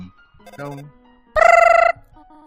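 A loud electronic phone ring from the video game Undertale, a single bright buzzing burst after some quieter game tones.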